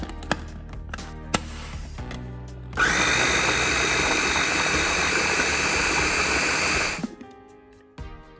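A food processor purees dates for sticky date pudding with a loud, steady motor whir that runs for about four seconds and then winds down, framed by light kitchen clatter before and after.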